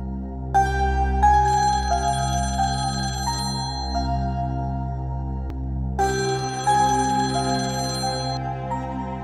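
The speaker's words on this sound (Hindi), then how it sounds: "फोन उठाओ" A telephone rings in a home during a tense domestic drama scene, a loud repeating electronic melodic ringtone with bright tonal pulses that continues steadily throughout.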